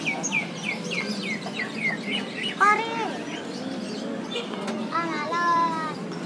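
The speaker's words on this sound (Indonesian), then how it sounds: "Ini burungnya bunyi banget, bunyi terus nih." An oriental magpie-robin sings a lively run of varied chirps and whistles, repeating rapidly, with a background murmur of distant voices in rainy weather.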